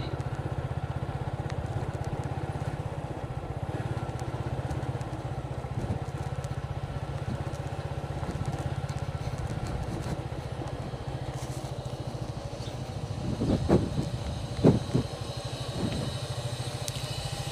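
A motorcycle ridden along a village road in Barudha, Beanibazar, Sylhet, its engine droning steadily and close throughout, with a few louder clattering bumps near the end.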